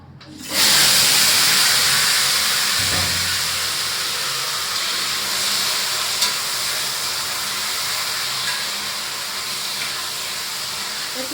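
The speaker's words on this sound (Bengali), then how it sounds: "এখন কচুরমুখী গুলাও ভাজা নেই" Taro corms (kochur mukhi) frying in a pan for a home dinner, giving a steady loud sizzle and hiss that starts abruptly and holds at an even level throughout, with no voice heard.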